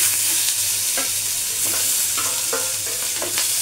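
Onions frying in a pan with a pinch of salt, a steady broadband sizzle broken by several sharp scraping stirs of a utensil against the pan, close and loud, with no voices.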